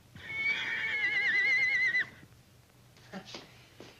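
A horse in a stable gives one long, loud, shrill whinny lasting about two seconds, followed by a couple of quieter snorts and breathy sounds.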